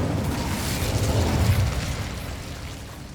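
The Incendio fire spell cast in Hogwarts Legacy, a dense roaring burst of flame that swells briefly and then trails off, loud and close.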